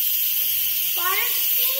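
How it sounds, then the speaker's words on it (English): Steam hisses loudly and steadily from an Instant Pot's pressure release valve while potato soup cooks, with a voice briefly heard over the hiss. "It's letting pressure out of the cooking pressure. Is that water? Yeah, it's steam."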